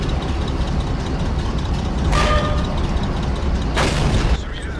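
Two sharp metallic impacts as shells ricochet off tank armor in World of Tanks, each a brief bright clang over a steady rumbling engine drone, spaced about two seconds apart.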